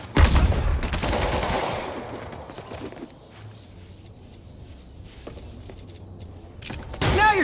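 Gunfire in a Spider-Man game mission: a heavy burst of rapid shots opens, fades to quiet scattered sounds and faint background, then another loud burst erupts at the end.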